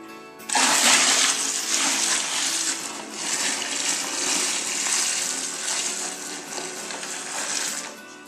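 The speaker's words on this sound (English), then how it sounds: "we're going to add our first pan of water" A pan of water is poured into a home-brewing fermenter, giving a steady rushing, splashing gush that starts suddenly and keeps going at an even level. It is close and there is no talk.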